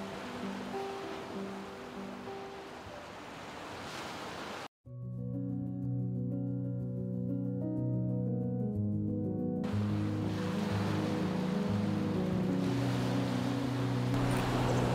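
Steady broadband wash of surf near the shore, interrupted midway by a stretch of tonal music before the rushing water returns.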